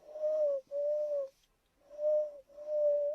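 A voice imitates an owl with two pairs of soft, hollow hoots, each held steady for about half a second, quiet and close.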